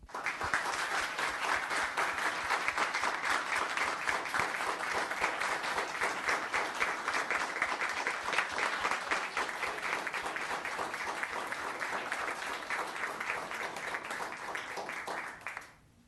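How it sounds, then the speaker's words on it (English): A town council meeting audience gives a long round of applause, dense sustained clapping at a steady level for about fifteen seconds before stopping abruptly. "let's give them a round of applause."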